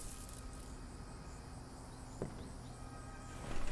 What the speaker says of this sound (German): Das Grillen zirpten.